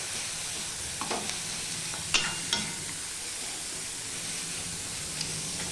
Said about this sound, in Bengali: বাটা পেঁয়াজটা কিন্তু ভালো করে ভেজে নিতে হবে গ্যাসের ফ্লেমটা একটু লো করে দিয়ে ভাজতে হবে